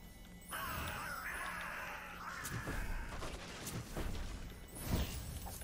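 A mage's crow attack in the fantasy battle game Warlander sounds as a swirl of harsh cawing and rushing noise, with a few dull impacts and crashing hits near the end.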